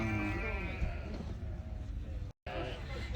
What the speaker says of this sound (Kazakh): Мына қойлар?